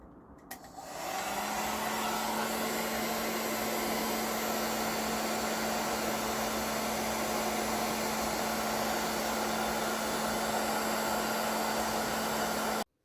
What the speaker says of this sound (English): now we have a hot air gun that blows really hot air